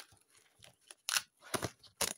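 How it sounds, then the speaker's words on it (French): Scissors snipping through paper to shape craft embellishments, a series of crisp close cuts in irregular bursts, with quieter rustling between the louder snips. "Pardon pour le bruit du ciseau."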